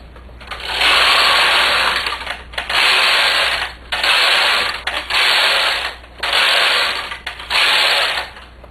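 A domestic knitting machine knits rows as its carriage makes six loud, steady mechanical passes. Each pass is a rattling, clacking sweep of a second or so, split by short pauses where the direction changes. No one talks.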